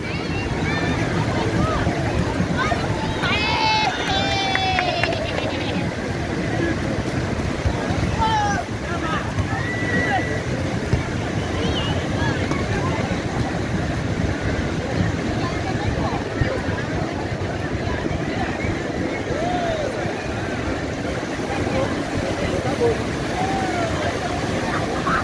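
Crowded Praia Grande beach in Ubatuba, Brazil, with steady surf and wind buffeting the microphone, a continuous roar with scattered distant voices and faint bird calls.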